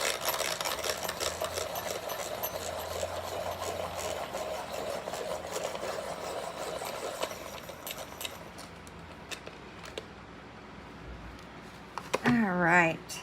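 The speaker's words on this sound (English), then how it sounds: "Okay, I will be sharpening this." A Caran d'Ache blender pencil is ground in a sharpener, a steady buzzing whir lasting several seconds before stopping, followed by a quiet pause and a brief voice.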